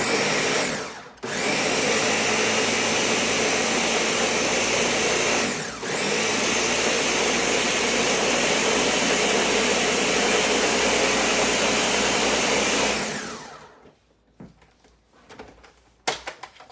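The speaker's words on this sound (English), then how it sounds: "I told you my blender was fancy." A fancy high-powered blender runs loud and steady for about thirteen seconds, blending ingredients for cheese puff mac and cheese, with two brief dips in speed before it cuts off, leaving a few soft clicks and handling noises.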